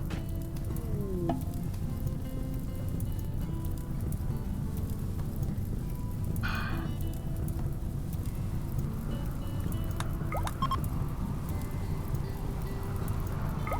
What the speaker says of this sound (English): the rain will put out the fire